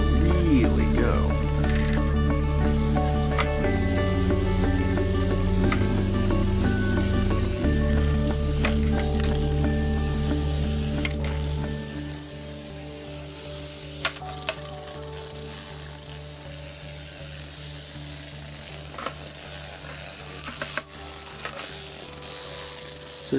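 A toothbrush-head Bristlebot robot with its little motor running skitters along, giving a steady buzzing rattle with tonal hum. A voice talks over it, and the motor's buzz drops away partway through, leaving faint clicks and scrapes.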